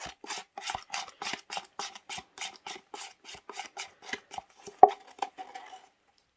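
Something is scraped out with steady, rhythmic rasping strokes, about a dozen close, evenly spaced scrapes that slow toward the end, with one sharper knock near the finish and no talking.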